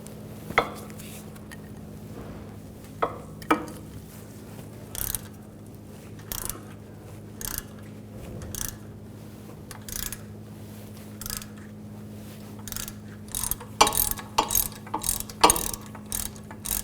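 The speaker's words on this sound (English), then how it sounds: "We're going to use a M12 triple square socket." A hand ratchet fitted with an M12 triple square socket clicks in short bursts while removing wheel hub bolts on a 2011-2018 Volkswagen Jetta, with quick pawl ticks over a faint steady hum and no talking.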